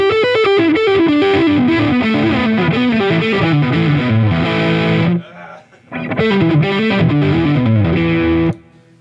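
Heavily distorted electric guitar playing a loud, dense riff with fast shifting notes, breaking off briefly near the middle before the same passage resumes and then stops abruptly.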